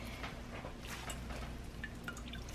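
Liquid from squeezed ground rice for horchata drips and trickles in faint, scattered little patters close by, over a low steady background hum.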